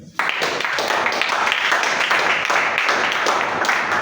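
A church congregation applauds together during a Sunday service, a dense, steady wash of clapping that holds at an even level from start to finish, with crowd noise mixed in.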